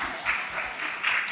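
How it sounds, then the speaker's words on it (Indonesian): Brief, faint applause from an audience at a club event, a short patter of clapping heard alone. "tepuk tangan"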